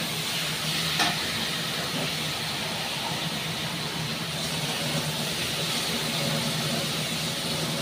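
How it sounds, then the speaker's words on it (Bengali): Water poured into hot oil in a pan hisses and sizzles loudly and steadily, a dense close spitting roar that carries on without pause and without talk. "আমার তেল ছেড়ে গেছে, এবার আমি এটার মধ্যে জল দেব।"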